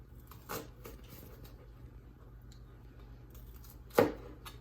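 A knife cuts through a shallot on a cutting board while preparing a filet mignon dinner: two sharp, quiet chopping knocks a few seconds apart, close by, over a low steady background hum.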